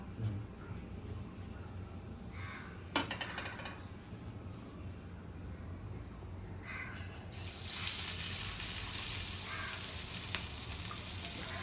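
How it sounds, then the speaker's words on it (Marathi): Semolina-coated fish sizzles in a frying pan, a steady hiss with a few sharp clicks and spatters, growing louder and brighter partway through, with no voices. "चला आता मस्त आपण करूया फ्राय आणि आज मी आता हा पॅन वापरते आपला फ्राय पॅन"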